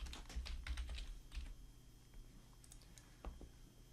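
Keys pressed on a computer keyboard for a shortcut produce a quiet run of quick clicking taps, which thin out to a couple of isolated presses near the end.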